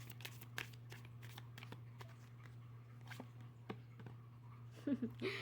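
Tarot cards are handled quietly at close range under a steady electrical hum, with soft scattered slaps and rustles of shuffling and drawing, and a slightly louder flurry of card handling near the end.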